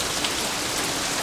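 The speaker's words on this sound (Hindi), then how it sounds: "बारिश हो रही है" Steady rain pours down continuously, a dense even hiss of drops on surfaces with no voices or other sounds over it.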